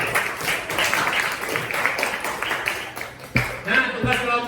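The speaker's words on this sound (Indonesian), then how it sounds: "tepuk tangan" Students in a classroom clap together in a moderate, fairly steady burst, with voices mixed in as the clapping thins out toward the end.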